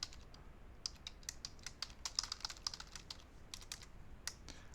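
Rapid keystrokes on a computer keyboard while writing code: a steady, quick run of light clicks, close and fairly quiet, with no one talking.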